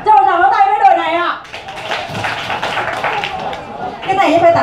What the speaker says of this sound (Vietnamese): Cho một tràng vỗ tay với đội này ạ.